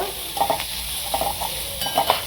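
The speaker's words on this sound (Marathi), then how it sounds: "थोडीशी हळद टाकू, एक चमचा लाल तिखट टाकू, पाव चमचा हिंग आणि चांगलं परतून घ्यायचं" Turmeric, red chili powder and a pinch of hing fry in hot oil while a spoon stirs them, giving a steady sizzle with light scraping strokes that repeat every half second or so.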